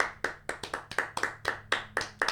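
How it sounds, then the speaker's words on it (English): Hands clap repeatedly at close range, about a dozen sharp, slightly uneven claps in quick succession with no talking. "Real claps."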